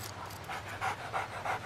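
A dog pants in quick, rhythmic bursts, close and fairly quiet, with a steady low hum underneath and no talking.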